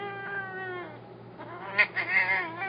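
A cat wearing a harness gives drawn-out, plaintive meows close by, a low whining cry rising into a couple of sharper, louder yowls near the end.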